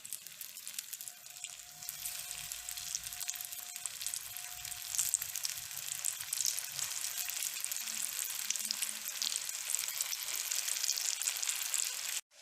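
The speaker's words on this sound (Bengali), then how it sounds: "এবার আমি এটাকে লো ফ্লেমে রেখে একটা একটা করে তার মধ্যে চপ দেব" Banana flower chops deep frying in hot oil on a low flame, a dense, even crackling sizzle that holds steady throughout, close and fairly quiet.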